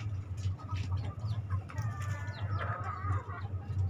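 Several backyard hens in a small home-scale flock, including a black hen, cluck and murmur nearby in short repeated bursts over a low steady background hum.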